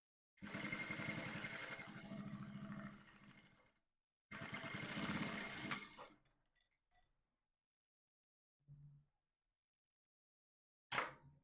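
Sewing machine stitching corset boning, two close mechanical runs of a few seconds each with a rapid ticking rhythm, then brief clicks and handling noises in near silence.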